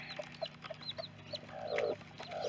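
A broody hen sits on eggs in a homestead coop and clucks in short, regular bursts, then gives a longer, louder grumbling call near the end, close by and with no voices.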